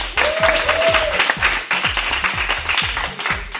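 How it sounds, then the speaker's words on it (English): An audience at a young chefs talent show claps steadily for a chef over a thudding rhythmic beat. The applause stays moderately loud for a few seconds. "Let's give her a round of applause for that."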